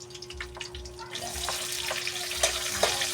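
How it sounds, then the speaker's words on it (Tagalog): Garlic sautéing in a pan for chicken liver afritada, a soft hiss that swells into a fuller, steady sizzle partway through, with faint clinks of stirring. "maggisa ng bawang at sibuyas. Atin naman pong isunod ang bawang."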